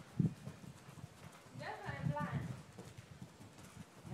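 Horse hooves clip-clopping during a riding lesson while weaving through cones, a faint, steady rhythmic thudding beneath quiet talk.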